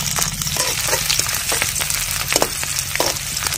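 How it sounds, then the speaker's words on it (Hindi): Onions and green chillies fry in hot oil in a kadai. A steady, loud sizzle runs throughout, broken by scraping stirs and small crackles. "अब चला के कर लेते हैं हम प्याज की फ्राई इस तरह से"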